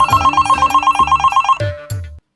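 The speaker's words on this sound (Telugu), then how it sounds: "నా ఫోన్ వస్తుంది" A mobile phone ringtone plays close and loud, a repeating electronic melody in quick regular pulses for about two seconds, then two final notes before it stops.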